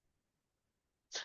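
A single sharp sneeze bursts out loud and close at the very end, after near silence.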